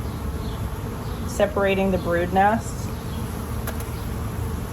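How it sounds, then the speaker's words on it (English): Honeybees buzzing around an opened hive during a swarm hive inspection, a steady close insect drone with a few louder passes near the middle, under someone talking. "even though there's plenty of bees in this hive for that"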